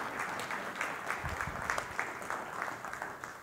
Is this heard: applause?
yes